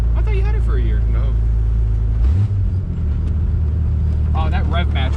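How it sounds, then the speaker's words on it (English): A 1988 Chevy S10 with a five-speed manual makes a loud, steady low engine drone, then the pitch shifts midway through as the driver rev-matches a downshift. People talk over it near the start and end. "Oh, that rev match was smooth."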